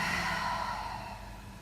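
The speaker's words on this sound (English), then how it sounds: "And a big open mouth exhale" A long, breathy open-mouth exhale during yoga breathing, steady and close, fading slightly toward the end with no talk over it.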